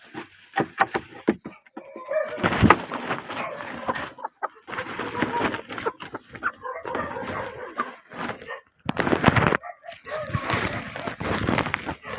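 Rhode Island Red chickens and chicks cluck and peep in a new coop, irregular bursts near and fairly loud, with a person talking among them.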